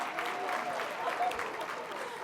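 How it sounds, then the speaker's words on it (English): Audience applause at the close of a mentoring workforce summit plenary session, a moderate, even patter of clapping from a crowd that holds steady for the whole stretch, with faint background voices. "Let's have another round of applause for that wonderful plenary."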